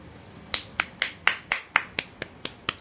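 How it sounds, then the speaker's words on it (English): A single person clapping alone at a steady pace, about ten sharp, crisp claps that sound like finger snaps, close and distinct with no talking. "I'm clapping."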